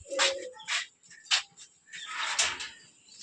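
A male green Gorra pigeon coos close by in a series of short, soft bursts with quiet gaps between them, the last call running a little longer.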